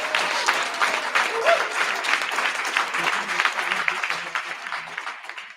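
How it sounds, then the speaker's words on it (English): Sustained audience applause for a panel at an event about confronting Citigroup's environmental racism, a dense steady wash of many hands clapping together, loud and even throughout with no voices breaking through. "let's give this whole panel another round of applause"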